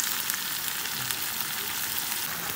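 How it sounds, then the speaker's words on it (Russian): Minced meat with onion, pepper and tomato sizzles in a frying pan, a dense, even crackle that holds steady and close throughout with no voices over it. "Немного поджарился лук с перцем, и мы кладем помидор."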